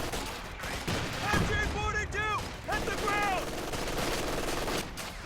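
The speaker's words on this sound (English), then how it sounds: "MG's now suppressing all of these squads." Bursts of machine gun fire crackle through a World War II real-time strategy match, mixed with other battle noise and clipped unit voice barks.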